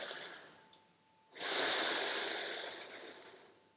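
A single audible breath drawn through the nose during a guided breathing meditation, a soft hiss that swells suddenly and slowly tapers, close and alone.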